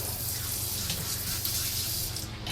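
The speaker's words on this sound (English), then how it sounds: "So basic sink with sprayer." Water gushes steadily from the sprayer into the stainless steel kitchen sink of a 2021 Shasta 25RK travel trailer, a continuous close hiss with no talk.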